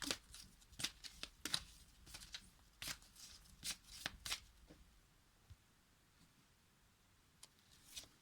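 A deck of oracle cards is shuffled close by in quiet bursts of riffling and flicking, clustered early and thinning out toward the end.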